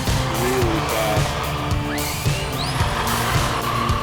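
An HPI Nitro RS4 RC car runs fast with a high, whining motor that rises and falls in pitch, tires gripping and squealing, heard close and fairly loud against background rumble.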